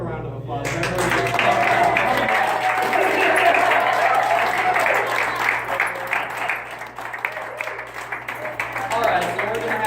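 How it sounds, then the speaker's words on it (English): An audience breaks into applause at a live church-style presentation, a dense wash of clapping that swells early, holds, then thins toward the end, with a voice speaking faintly over part of it. "Give a round of applause"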